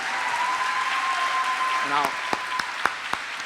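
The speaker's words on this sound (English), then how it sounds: "everybody should clap for them because they're raising young black children" An audience at a law conference session applauds, steady dense clapping throughout with a few sharper individual claps near the end and faint voices mixed in.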